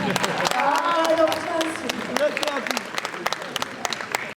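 An audience at a formal Sierra Leone event gives a round of applause for a woman guest, sustained clapping with voices audible through it, ending abruptly.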